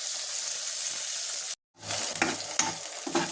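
Onion, garlic, ginger and green chillies frying in oil for hotel-style chicken biryani, a steady bright sizzle, briefly cut off, then returning with stirring scrapes and crackles, close and loud.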